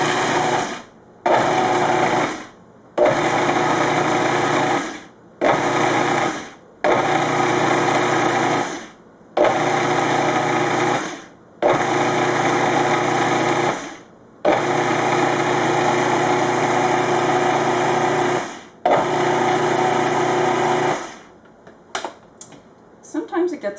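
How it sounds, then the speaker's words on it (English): A loud blender whirs in repeated pulses, about ten bursts separated by short silences, blending carrots and sunflower seeds into a sticky raw vegan cake mix, close and steady, ending in a few brief clicks. "I'm going to blend this up until it's well mixed and kind of sticky"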